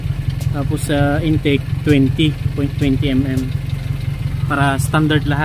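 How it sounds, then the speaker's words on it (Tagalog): A Toyota 2E engine idles steadily after a valve clearance adjustment, with a slight valve tick in its even mid-pitched running. Someone talks over it throughout. "Naririnig akong konting lagitik pero okay lang kasi alam kong niluwangan ko siya eh."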